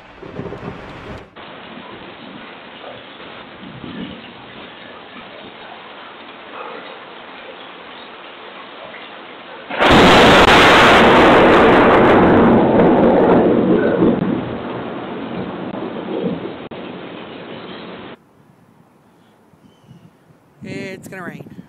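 Steady rain hisses through a thunderstorm until a sudden, very loud nearby thunderclap crashes in and rolls on for several seconds before fading back to rain. Voices are heard.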